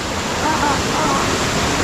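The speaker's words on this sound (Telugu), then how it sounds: "వాటర్ ఫాల్ చూసిరుగా అందరూ" A waterfall swollen by monsoon rain on the Harishchandragad trek, roaring as a dense, continuous rush of falling water that sounds close and loud, steady from start to finish with no pauses.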